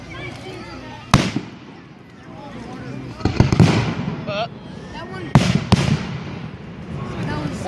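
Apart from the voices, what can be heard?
fireworks exploding at Independence Day display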